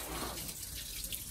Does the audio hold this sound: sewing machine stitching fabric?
no